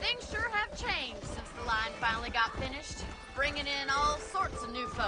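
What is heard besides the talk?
None of the usual background noises is heard.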